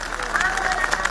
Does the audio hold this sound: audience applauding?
yes